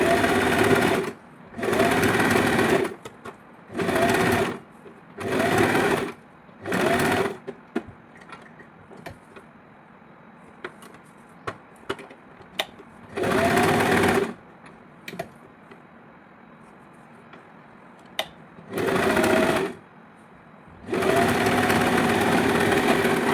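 A sewing machine stitches the lining of a net long frock in repeated short whirring bursts, each lasting about a second, separated by quiet pauses with small clicks and fabric handling.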